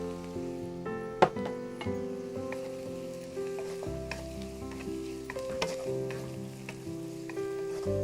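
Onions and carrots fry in a pan with a steady close sizzle, punctuated by scraping stirs and a sharp clink near the start; no one speaks.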